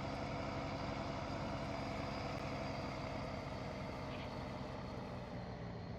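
A John Deere tractor engine idles in Farming Simulator 19, a steady, loud low rumble that stays constant throughout with no talk.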